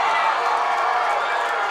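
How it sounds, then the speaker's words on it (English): A loud, steady roar from a Badgers home crowd at a Snow College football game against Iowa Western, the noise filling the stadium continuously with no breaks and no distinct voices standing out. "Badger crowd is up and loud"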